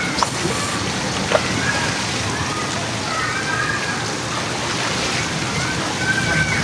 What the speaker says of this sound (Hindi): काफी टाइम से ये इतनी तेज बारिश हो रही है, इसी वजह से छत पे इतना पानी जमा हो चुका है।